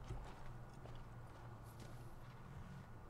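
A horse's hooves clip-clop in Assassin's Creed 3 as a steady, faint, quick walking rhythm under light background game sound, without speech.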